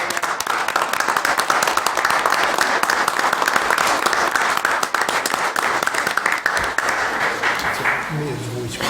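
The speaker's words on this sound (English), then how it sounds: "Another round of applause for our" An audience at a township committee meeting gives a sustained round of dense clapping that runs steadily for several seconds, then tapers off near the end.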